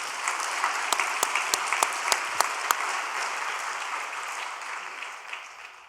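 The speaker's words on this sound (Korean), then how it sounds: "우리 정귀임 우리 선배님께 우리 박수 한번 올려드립시다." A congregation at an overnight prayer gathering gives a round of applause, a steady wash of clapping with a few sharp, distinct claps standing out early, fading near the end.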